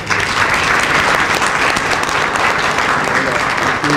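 Sustained audience applause in a hall at a talk on Catholic congregations and health in Senegal, dense, loud and steady for the whole stretch.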